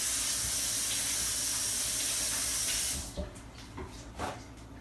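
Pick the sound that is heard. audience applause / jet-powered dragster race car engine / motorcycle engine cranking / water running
water running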